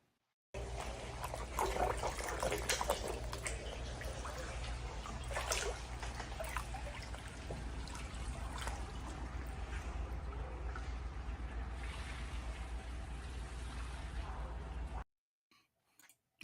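Floodwater fills a hotel room near the Daytona racetrack in Florida, an ankle-deep wash that trickles and sloshes steadily, quiet and close, with brief splashy bursts early on before the sound cuts off near the end.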